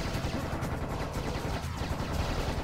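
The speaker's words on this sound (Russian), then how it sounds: "Используем томиган, отстреливаем ребят" Tommy gun fire from the Serious Sam video game, a dense, continuous burst of rapid gunshots with constant loud roar and no pauses, mixed with surrounding combat noise.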